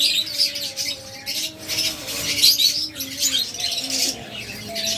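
A breeding pair of two-year-old pigeons offered for sale at a wholesale bird market coo in low tones, mixed with busy high chirping from other birds close by.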